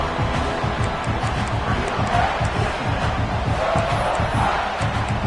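Stadium crowd roaring and cheering in a college football video game, a dense continuous wall of voices with swelling shouts, moderately loud and heard on its own without commentary.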